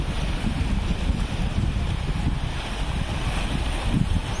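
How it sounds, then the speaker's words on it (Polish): Rough, choppy sea with strong wind blowing past a coastal resort, a steady broadband roar of surf and wind buffeting the microphone, constant and fairly loud with no voices. "Dzisiaj morze niestety jest dość mocno wzburzone."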